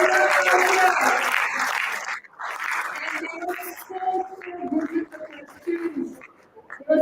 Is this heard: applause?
yes